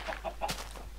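A chicken in the Minecraft video game clucks in a few short, quick bursts, fairly close and clear over a low steady hum, with no talking.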